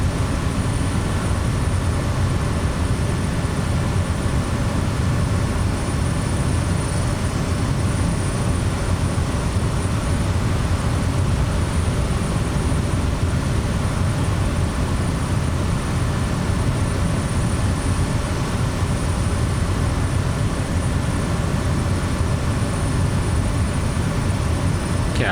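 Steady propeller engine drone of a Kodiak 100 climbing toward 10,000 feet in Microsoft Flight Simulator 2024, with prop RPM set at 2,000: loud, constant and even, with no pauses and no voices.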